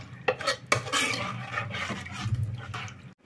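Udupi-style sambar stirred in a pot: close, continuous scraping and swishing with a couple of sharper knocks against the vessel.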